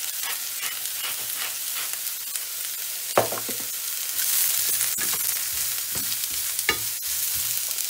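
Pork neck frying in a pan with seasoning and garlic, a steady close sizzle with scattered crackles and spatters, plus a few sharp stirring clatters of a utensil against the pan.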